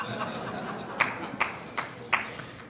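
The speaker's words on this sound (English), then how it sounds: "Thanks, I got one person to applaud that." A lone person in a business audience claps a few times, four or five sharp, evenly spaced claps rising out of a murmuring room with soft chuckles and quiet chatter underneath.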